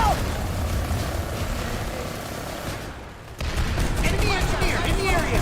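Online multiplayer battle game with a grenade thrown amid gunfire, dense rattling shots and a roaring engine drone, a brief dip then a louder swell of firing and blasts, voices heard over the din.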